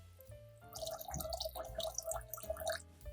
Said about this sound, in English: Next, add another 700 milliliters of water.